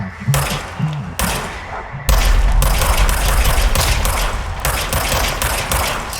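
Shots from a gun in the game Control: two quick cracks, then a sustained loud volley of rapid, heavy gunshots with booming low thumps, close and dominant with no voices.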